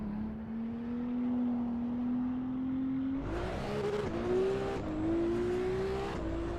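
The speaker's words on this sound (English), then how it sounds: "Let's see what the downshifts and that sound like." A car's engine in the Assetto Corsa EVO racing game: a steady high whine holds, then a sharp blip marks a downshift and the revs climb in stepped pulls, loud and close, with no talk.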